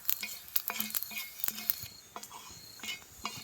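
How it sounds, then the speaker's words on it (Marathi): Coriander seeds roast in a little oil in a pan, soft crackling and pattering mixed with light clinks of a spoon stirring, quiet and close. "धने टाकलेत मी भाजायला त्यात थोडस आपल्याला तेल टाकायचे"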